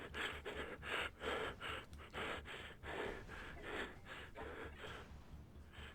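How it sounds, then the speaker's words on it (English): Heavy, rhythmic breathing in the horror video game Dying: Reborn repeats steadily in ragged gasps and pants over a low droning background, continuing without pause while crawling through a vent. "you hear that breathing? That went on the entire time you're in the vent."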